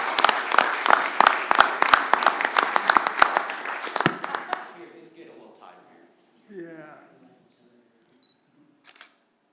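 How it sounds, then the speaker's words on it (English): Applause at a city commission meeting in Rome, Georgia, rattles through a room for about four seconds as a dense burst of claps that fades out, with a voice speaking afterward and a camera shutter clicking near the end. "You can clap now."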